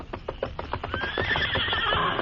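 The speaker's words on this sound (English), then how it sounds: "the great horse Silver emerged from the underbrush" A horse whinnies loudly and close, its neigh rising and trailing off over about two seconds, with hoof clip-clops and rustling from underbrush around it.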